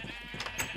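A short sheep bleat from the Minecraft SkyBlock survival game, a quick wavering call heard alone and close at moderate volume.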